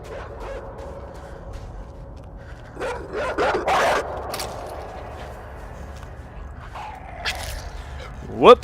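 Dogs bark and yip in the side-scrolling game Inside, a few sharp bursts clustered in the middle and a yelp near the end, set against a low ambient hum with soft footsteps.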